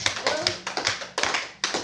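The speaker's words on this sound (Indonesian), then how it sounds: "Tepuk 1, tepuk 2, tepuk 3, tepuk 4." Group clapping in a steady counted pattern at a school teachers' activity, with sharp hand claps landing in short bursts of one to four beats and brief pauses between the groups.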